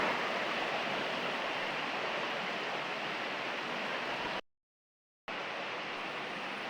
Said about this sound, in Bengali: বৃষ্টি শুরু হয়ে গেছে অলরেডি